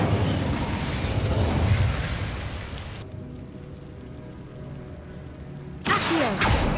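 Incendio fire spell in Hogwarts Legacy, cast in a catacomb: a loud crackling, roaring burst of flame that drops away to a quiet hum, then another sudden whooshing burst near the end.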